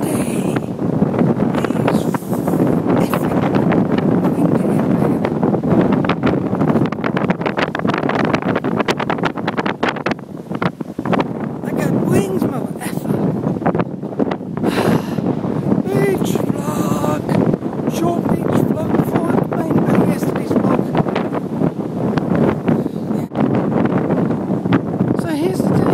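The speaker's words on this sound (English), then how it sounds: "The beach is windy." Strong wind at a beach buffets the microphone in a constant loud rush and rumble, with muffled voices mixed in.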